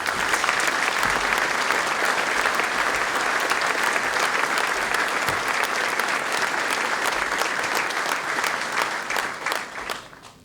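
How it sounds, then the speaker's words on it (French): An audience at a hunters' general assembly breaks into sustained, dense applause that holds steady for several seconds before tapering off at the end. "je vous demande vos applaudissements"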